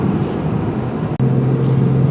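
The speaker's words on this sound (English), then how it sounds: "taking tight corners on mountain roads, this vehicle hugs the road pretty good" A 2019 Lexus GS350 F-Sport in Sport Plus mode drives hard through tight mountain-road corners, with a loud steady engine drone and road roar from inside the cabin and a brief gearshift dip.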